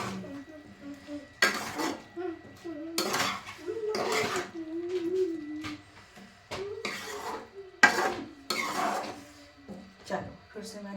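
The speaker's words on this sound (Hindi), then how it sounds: "चलो फिर से मैंने ढक दिए हैं।" A cooking pot in a home kitchen is clattered and covered with its lid while matar ka nimona cooks, giving several sharp metallic clinks and scrapes spread across the clip, with someone talking between them.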